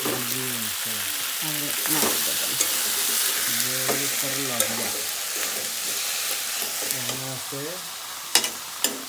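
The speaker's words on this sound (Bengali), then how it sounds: "এই যে মা রান্না করতেছে, কি রান্না করে দেখি একটু। মাংস মাংস আছে" Chicken curry cooking in a pan while being stirred, with a steady sizzle and repeated close scraping strokes throughout, and faint voices in the background.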